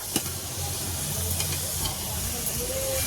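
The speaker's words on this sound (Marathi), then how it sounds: "आपण त्यामध्ये मटण टाकलंय बघा. आता छान आपण हलवून घ्यायचं आहे." Mutton sizzling and hissing steadily in a pan over a wood-fired clay stove as it is stirred, a close, continuous frying crackle with a few faint scraping knocks.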